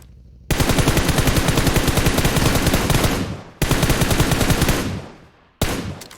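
Rapid automatic gunfire from the mobile battle-royale game PUBG Mobile, loud and close, in two long sustained bursts with a brief gap between them, then a third short burst cut off at the end.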